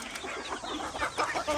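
Chickens on a poultry farm cluck in a busy, overlapping chorus, several birds close by making short clucks and squawks at fairly steady loudness over a dense background of more hens.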